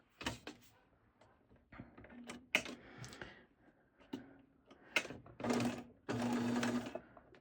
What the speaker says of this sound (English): We're going to back stitch.